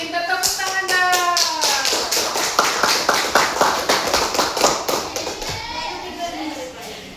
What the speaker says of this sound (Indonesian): Pintar tepuk tangan dong.